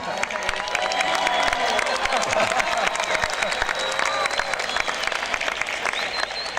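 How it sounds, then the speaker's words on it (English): Audience at a high school graduation ceremony clapping steadily, a dense sustained wash of applause from a large crowd throughout. "Keep clapping."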